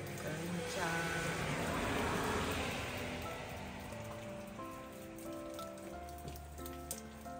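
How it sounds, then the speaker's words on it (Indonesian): Steady rain falling on a surface during a rainy season, with gusts of strong wind, loud and continuous throughout while a person talks over it. "Aduh, ini hujan, ini angin. Tuh, angin kencang."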